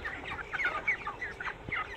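Chickens on a poultry farm clucking softly in a series of short, close calls, fairly quiet against low background noise.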